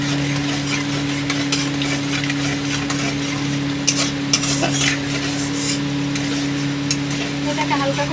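Fennel seeds and three dried red chillies stirred in hot oil for a Bengali egg korma, a soft continuous sizzle with light scraping of a spoon in the pan and a steady low hum underneath.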